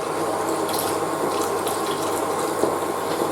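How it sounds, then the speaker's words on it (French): Cold water poured steadily into a pot of okra soup, a continuous close splashing rush that holds even for several seconds without talking. "On va rajouter de l'eau. J'ai mis de l'eau froide"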